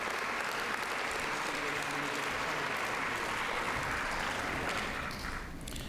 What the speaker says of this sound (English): Let's give all of our technology winners another round of applause.